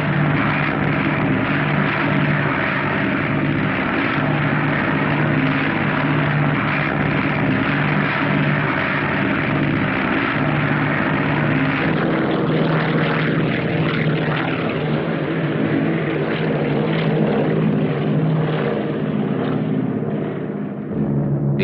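Propeller planes carrying parachute-rigged supply loads in 1945 Burma drone steadily and loudly, a continuous engine roar that shifts slightly in tone midway.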